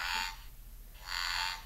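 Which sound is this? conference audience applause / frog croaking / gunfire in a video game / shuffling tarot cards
frog croaking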